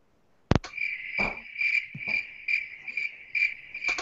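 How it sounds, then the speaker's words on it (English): Crickets chirp in steady, evenly spaced bursts after a sharp click, a clear high trill pulsing about twice a second against a quiet background. "Just random crickets."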